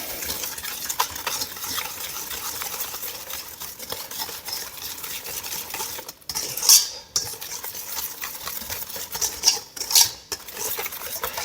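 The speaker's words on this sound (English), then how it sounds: "And then I'm going to whisk that up." Milk and a pinch of salt are whisked for peach cobbler batter, a rapid, steady clatter of a metal whisk against a bowl, close up, with a few sharper clinks near the end.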